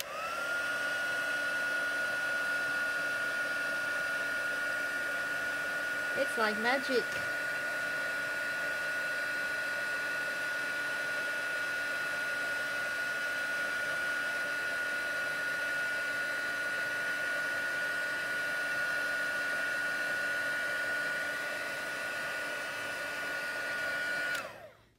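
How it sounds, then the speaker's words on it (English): A heat gun blows steadily to set embossing powder on an inked card, a constant whirring hum with a high whine that runs unbroken for the whole stretch. A voice speaks briefly near the start. "And use our heat gun just to set her."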